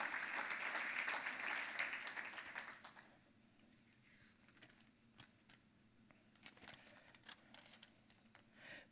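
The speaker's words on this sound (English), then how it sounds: "Let's give all tonight's honorees a round of applause because they, they, they truly, truly deserve it." Applause for honorees at an annual dinner, a burst of clapping from the room that is strongest at first, then thins to scattered, quieter claps and faint shuffling.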